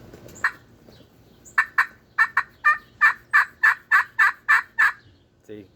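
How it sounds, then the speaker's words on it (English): Turkey call worked with an acrylic striker gives a run of about a dozen sharp, evenly spaced yelps, each short and bright, fairly close and loud with no talking. "here's acrylic on that same call"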